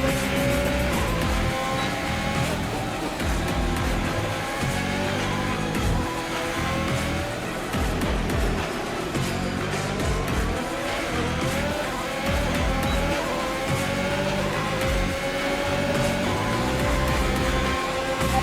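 An F1 race car in the F1 2021 video game accelerates out of the pits, its high-pitched engine whine rising and falling through gear changes, with occasional tire squeal, loud and continuous throughout.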